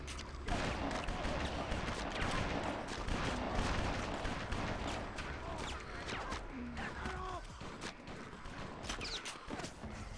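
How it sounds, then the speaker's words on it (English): Rapid, dense gunfire and impacts from the PS2 game BloodRayne as a vampire feeds on a Nazi soldier, continuous and loud with game noise throughout. "You actually can shoot them while you're sucking the blood."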